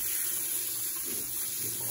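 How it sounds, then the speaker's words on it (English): Water runs and sloshes steadily as rice is rinsed before cooking for a Russell Hobbs 1.8 litre rice cooker, a soft continuous wash with no talk. "I always wash the rice, rinse the rice"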